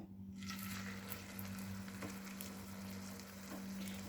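Aloo tikki frying in ghee over a slow flame, a continuous close sizzle with soft crackle and a low steady hum underneath, no voices.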